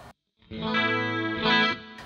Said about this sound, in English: So there's our clean with chorus and reverb